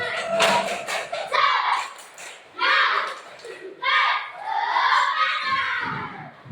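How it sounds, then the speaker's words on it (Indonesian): A class of schoolchildren chants a 'tepuk semangat' spirit clap together at the end of a lesson, loud group voices rising and falling in shouted bursts with a few sharp claps mixed in. "Kita tutup dengan tepuk semangat."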